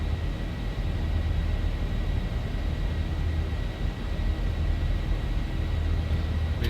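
A Boeing 737-800 (Zibo) in a flight simulator climbs after takeoff, giving a steady, dense engine roar with a low rumble that holds without pause and no talking.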